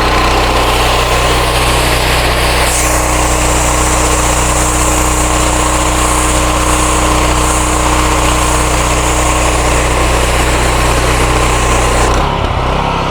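A 4300 PSI industrial pressure cleaner rated at 15 litres per minute runs with a 15-degree nozzle, giving a loud, continuous engine drone and a steady high-pressure water hiss that stops abruptly near the end.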